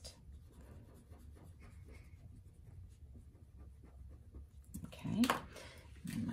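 A pencil eraser rubs over a paper sketch in soft, close scratchy strokes, faint and steady, with a louder brushing scuff near the end.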